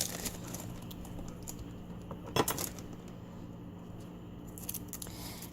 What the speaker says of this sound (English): I'm just going to cut the onion a little bit off of it and peel out this outer layer